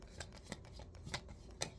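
Tarot cards are shuffled and drawn in a handful of soft, quick papery flicks and slaps spaced about half a second apart, faint and close with no talking.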